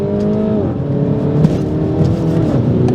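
Mini Cooper S with a front-wheel-drive automatic gearbox accelerating hard, its engine note climbing steadily in a loud, close, continuous drone with a brief shift dip midway.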